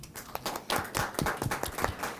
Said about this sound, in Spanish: un aplauso por favor para la señora Coqueta